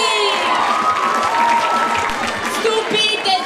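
Audience at a final evening show claps and cheers warmly, with shouts and excited voices mixed into the lively crowd noise throughout.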